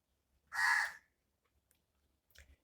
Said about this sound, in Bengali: কাকগুলো বাইরে ডাকছে